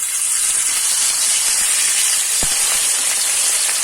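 Fish fries in hot oil for a curry, giving a steady, close hiss and sizzle with a few faint pops and crackles and no voices over it.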